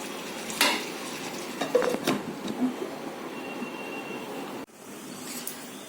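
Chicken being stirred in a kadhai, with a few clanks and scrapes of a spoon against the metal over a low background hum, then a brief knock as the lid goes on.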